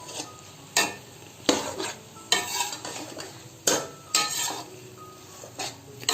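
Rice being stirred into a cooking jaggery mixture in a pot, with repeated scraping strokes of a spoon against the metal roughly every second, each followed by a quieter sizzle, no voices.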